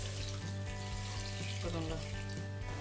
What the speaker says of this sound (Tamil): அடுத்தது இதில் வந்து நம்ம தண்ணி சேர்க்கலாம்.